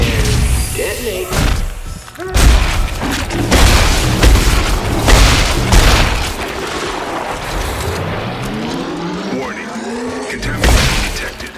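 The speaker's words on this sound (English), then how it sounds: "Computer, arm explosives." Explosives detonate in the sci-fi horror game Dead Space 3, a run of loud booming blasts and crashing debris with rumbling low-end, repeated bursts over several seconds mixed with game audio and voices.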